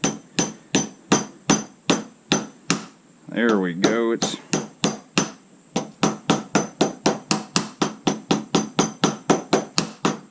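Steady metal-on-metal hammer strikes with a regular hammer tapping a new axle bearing into a Suzuki Quadrunner ATV hub, roughly two to three sharp, close blows per second, with a brief pause where a voice speaks before the even tapping resumes.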